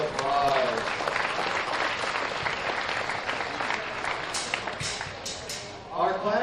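Audience applause at a swine show after blue ribbons are awarded, moderate clapping in a large arena that tapers off, with a voice rising near the end.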